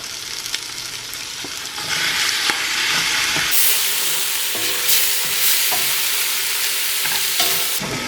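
Tripe sautéing in a pan for Filipino kare-kare, a loud continuous sizzle and hiss that swells after the first seconds, with a spoon scraping and stirring through it, close and without speech.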